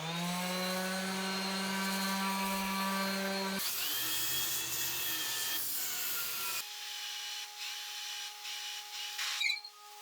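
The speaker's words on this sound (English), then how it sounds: "I'm gonna go ahead and use my random orbit sander as I'm spinning this just to smooth the outside" Random orbit sander working the outside of a spinning wooden bowl on a lathe, a loud, steady droning whir that shifts in pitch twice as the tools change, then ends in a few rubbing scrapes.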